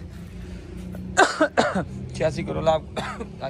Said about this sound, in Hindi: खांसी भी तंग करी।